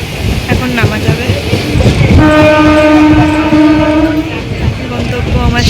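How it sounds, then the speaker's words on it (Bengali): A train pulls into a station, its horn sounding a long steady blast over loud rolling rumble and wheel clatter, close and dominant throughout. "ট্রেন স্টেশনে ঢুকে গেছে।"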